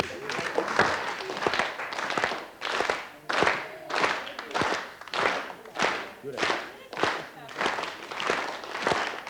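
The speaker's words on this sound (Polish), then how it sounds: "Możemy klaskać" A concert audience at a 1992 Polish music show claps along in a steady rhythmic beat, sharp repeated bursts of many hands with a singing voice over the top.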